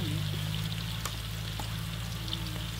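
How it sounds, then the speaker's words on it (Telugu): Green chillies fry in a pan with a steady close sizzle and soft crackle, over a constant low hum from the kitchen. "పచ్చిమిర్చిలు కొంచెం గోలేదాకా వేగనివ్వాలి మనం కొద్దిగా."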